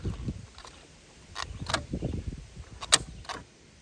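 Twist fuel cap on a 2017 Buick Regal turning and clicking, several sharp ratcheting clicks near the end among softer handling rattles and low thumps, close up and quiet.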